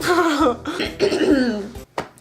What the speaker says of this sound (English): There we go, the cough!